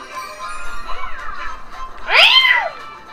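A cartoonish cat meows in Super Mario 3D World, two rising-and-falling mewls, a softer one followed by a louder, longer one.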